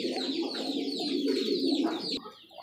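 A male pigeon coos close by in a continuous low, rolling murmur with throaty pulses, other pigeons faintly audible behind and no talk.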